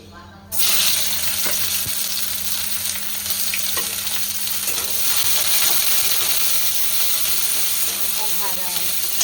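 Food frying in a pan gives a loud, steady sizzle with intermittent stirring clinks, starting abruptly and holding close throughout; faint talk may sit underneath.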